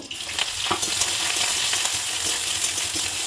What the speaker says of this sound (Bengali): এগুলো আলাদা করে ভেজে নেব